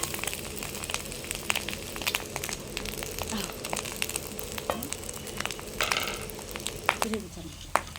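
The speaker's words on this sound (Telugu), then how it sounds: "ఉడికించి పెట్టుకున్న బాస్మతి రైస్ని వేసుకుందాం." Cooked basmati rice tipped into a pan of frying vegetables for chicken fried rice, giving a steady sizzle with scattered crackles and scraping stirs, a louder rustle near the end.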